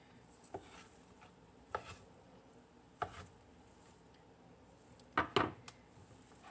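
A knife chops holiday leftovers on a board in a handful of sparse, separate thuds, the last two coming in a quick, louder pair, close and without talk.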